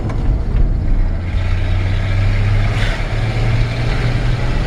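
A 1966 Ford F100 truck with a 300 inline-six engine and an old, rust-holed exhaust runs down the road, a steady low rumble with constant road and wind noise, loud and continuous throughout.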